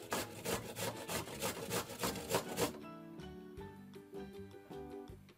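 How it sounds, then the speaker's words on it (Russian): A peeled cucumber is rubbed over a coarse grater for tzatziki, giving about a dozen quick, rhythmic rasping strokes close up, then softer scraping and light clatter. "Огурец я почистила и натираю на крупной терке."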